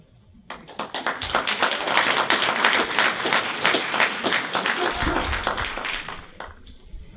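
An audience at a chamber of commerce candidates forum breaks into applause, a dense burst of clapping that swells quickly, holds for several seconds and tapers off, heard from within the room.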